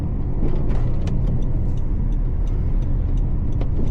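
A Honda Civic 1.5 Turbo cruises the GT road at night with a loud, steady low engine and road rumble and a few faint higher clicks over it, and no voices.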